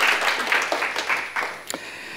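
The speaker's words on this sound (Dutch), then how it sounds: "Dames en heren, een daverend applaus voor Stefan Brijs." Audience applause for guest author Stefan Brijs at a literary late-night show, a steady broadband wash of clapping lasting about two seconds with a brief sharper burst near the end.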